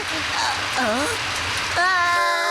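Rain falls in a cartoon scene as a steady hiss under animated voices and tonal sounds.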